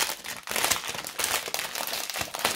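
A plastic packet of diamond painting diamonds is torn and crinkled open up close, bursts of crisp rustling and crackling plastic coming in uneven waves, with no talking.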